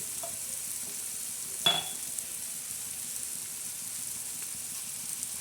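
Onions sizzle gently in a pan for egg bhurji with green chillies, tomato and salt, a soft continuous hiss broken by one clear clink of a spoon against the pan; quiet, close and without talk.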